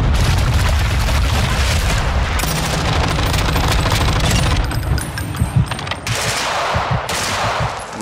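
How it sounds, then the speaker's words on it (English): Grenade blasts and gunfire in the Call of Duty DMZ video game: loud, dense booms and sharp bursts of shooting pile up throughout, with scattered harder hits toward the end. "Why are you throwing grenades?"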